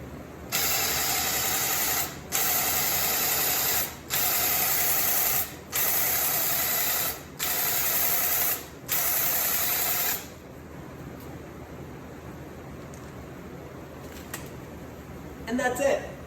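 A Graco Ultimate Quickshot airless paint sprayer sprays with loud, steady hissing in about six repeated passes with short pauses between, then a quieter room with faint background noise.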